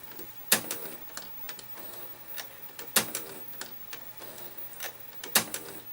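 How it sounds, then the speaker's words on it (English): A 1990 GE 2-head VHS VCR clicks while playing a tape, with sharp, fairly quiet mechanical clicks recurring in a regular cycle about every two and a half seconds, plus lighter ticks in between. "Something's clicking in there."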